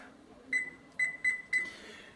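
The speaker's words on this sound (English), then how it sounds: "Let me set my timer." A digital kitchen timer is being set for a sous vide London broil, giving four short electronic beeps close by: one, a pause, then three in quick succession over a quiet background.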